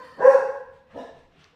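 A dog gives two short barks nearby, the first louder and longer, the second softer, with quiet between them.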